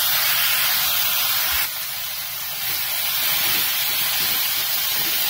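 Chopped tomatoes dropped into a hot pan with turmeric, coriander and chili powder, a loud sustained sizzle that briefly dips and then resumes steadily.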